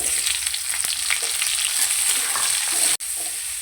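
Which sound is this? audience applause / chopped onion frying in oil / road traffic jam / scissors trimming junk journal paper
chopped onion frying in oil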